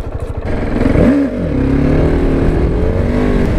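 A KTM Duke 690 single-cylinder motorcycle engine revs loudly up close, a deep, throbbing exhaust note that rises and dips once before settling into a steady, strong drone.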